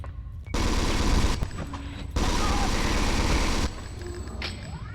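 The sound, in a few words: gunfire in Alien Resurrection PS1 video game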